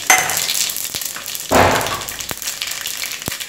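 Cumin and mustard seeds hit hot oil for poha and sizzle loudly, a close, steady fizz broken by sharp pops and crackles as the seeds spit.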